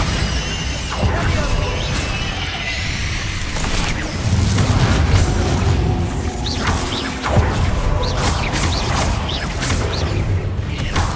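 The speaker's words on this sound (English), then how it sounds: "Bombarda." Bombarda blasting spell in Hogwarts Legacy combat, set among a steady barrage of other spells: dense, loud booms, crashes and shattering impacts rolling continuously with brief sharper cracks throughout.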